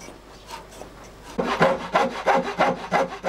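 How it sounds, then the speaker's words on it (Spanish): A small hand saw cuts into wood while shaping the spout of a hand-carved wooden jug, giving close, rhythmic rasping back-and-forth strokes that grow louder after a quiet start, with no talking. "Otro serrucho pequeño le sirve a Arturo para abrir las estrías del pico de la jarra y perfilar su forma definitiva."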